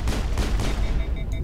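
Rapid bursts of gunfire in the sci-fi shooter game Mass Effect, a dense, loud fusillade of overlapping shots lasting the whole moment, with no voices over it.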